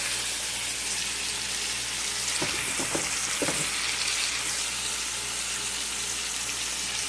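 Steak sizzles loudly and steadily in a hot pan just after being flipped, a dense continuous frying hiss with a few brief scraping or stirring sounds partway through.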